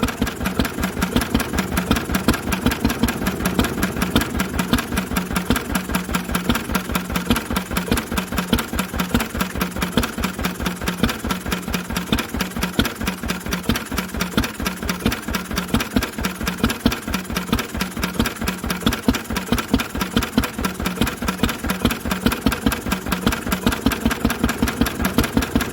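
An old Lister stationary engine idles slowly after its first start in 40 years, a steady, even stream of rapid chugging beats running alone, close and moderately loud for the whole stretch.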